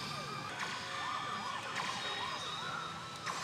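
A wailing police-car siren from a pachislot machine sweeps up and down repeatedly amid busy electronic game-machine noise, fairly faint and steady.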